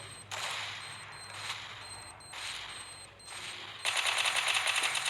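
Gunfire from a shooting video game, several bursts of rapid automatic fire separated by short pauses, ending in a louder sustained rattling burst, with no talk over it.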